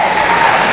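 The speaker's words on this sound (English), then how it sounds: "a very appreciative crowd here at Waterloo salutes their former University of Iowa wrestler, Troy Steiner." A wrestling crowd applauds a former University of Iowa wrestler at a USA versus Russia World Cup dual meet, a dense, loud, continuous burst of clapping throughout the brief moment.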